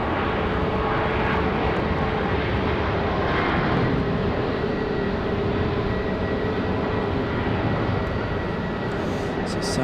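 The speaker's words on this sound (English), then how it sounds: "So Southwest departing." Southwest Airlines jet departing Raleigh Durham airport on a rainy day, a loud sustained engine roar with a steady whine, continuous and fairly near.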